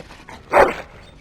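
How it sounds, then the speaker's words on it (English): A single short dog bark from the video game Dragon Age Origins, fairly loud and close, standing alone without talk. "Bloody dog."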